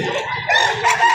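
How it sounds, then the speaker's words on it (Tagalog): A Black Bonanza rooster, an all-black fowl held at a Padre Garcia livestock auction market in Batangas, crows and clucks up close in a short, loud, harsh burst. "Ayan si Kuya, may hawak-hawak na magandang klaseng manok."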